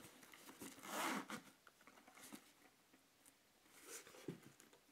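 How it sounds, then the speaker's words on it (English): A zipper slider is pulled along a PlatoWork protective carry case, making quiet close rasping bursts in two main pulls with softer handling sounds between them. "pull the slider along its zipper,"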